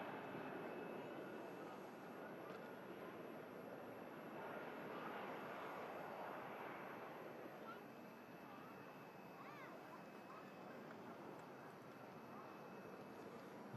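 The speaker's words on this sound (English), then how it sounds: "The Airbus A319 heading back down to London Heathrow." An Airbus A319 airliner departs for London Heathrow, its engine roar a steady, fairly distant broadband rumble that holds across the whole stretch with no sharp peaks.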